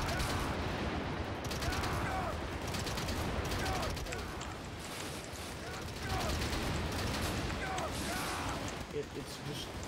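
Rapid, sustained gunfire in the Garry's Mod video game, dense bursts of shots filling the whole stretch with mechanical clatter, while players talk over it.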